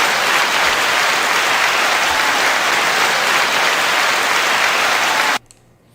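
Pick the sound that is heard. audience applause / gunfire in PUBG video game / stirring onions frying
audience applause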